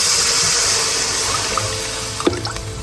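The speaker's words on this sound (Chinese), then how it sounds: "用小火翻炒，炒出辣香味儿，加水" Water poured into hot chili oil with ginger, garlic and chili flakes in a wok for mapo tofu, giving a steady, loud sizzling hiss throughout with a few brief crackles near the end.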